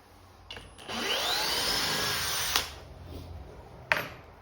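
A Flex 1131 half-inch compact cordless drill runs steadily for about two seconds at close range, with a brief start and stop, followed by a couple of sharp handling clicks.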